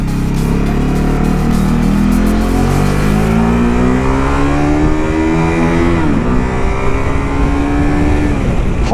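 A 2019 Ducati SuperSport 950 motorcycle engine pulls hard under acceleration, its loud, close exhaust note climbing in pitch through the revs before briefly dipping and rising again.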